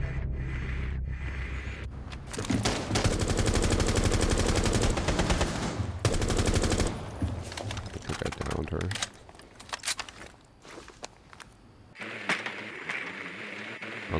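Bursts of game gunfire fired through a wall in a first-person shooter, loud rapid volleys in the opening seconds followed by scattered shots and clatter, with a voice talking over parts of it.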